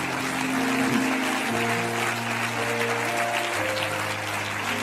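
A church congregation claps in sustained, dense applause at moderate distance, with faint musical tones sounding underneath throughout.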